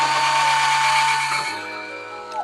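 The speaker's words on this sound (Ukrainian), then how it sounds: "Беремо шуруповерт, дивимося, щоб штора не здвинулась з намальованої полоски, і сверлимо отвір." A cordless screwdriver drills a hole for mounting a curtain, a steady high-pitched motor whine that drops in pitch partway through as the bit loads up, close and loud.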